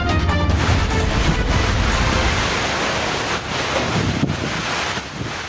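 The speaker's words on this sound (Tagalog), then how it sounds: "Ganito kalakas ang ulan at hangin dala ng bagyong Paulo" Roaring typhoon wind buffets the microphone in a loud, continuous rush, with a hiss of heavy rain mixed underneath, in Aurora, Philippines.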